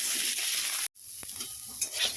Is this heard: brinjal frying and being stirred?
yes